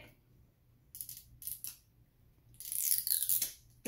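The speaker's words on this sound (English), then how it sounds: "I love hearing that zip noise" A zipper on a toy package is pulled open in a few quick rasping bursts, then one longer, louder zip, heard close and alone in a quiet room.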